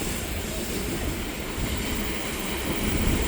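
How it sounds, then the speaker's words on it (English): A BNSF coal train rumbling past as a steady, broadband roar with faint wheel noise, continuous and fairly distant, with no talking. "BNSF Dad's birthday coal train."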